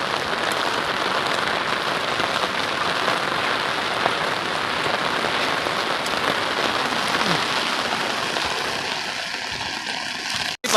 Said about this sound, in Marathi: बघा जोरदार पाऊस पडतोय